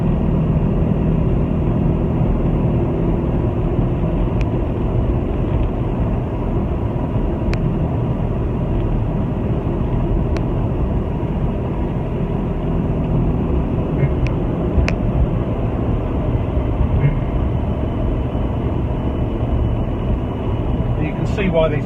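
Steady loud engine drone and road rumble from an Austin Mini Cooper S Mk3 being driven, heard from inside the car, continuous throughout with a few faint clicks, and someone talking over it at times.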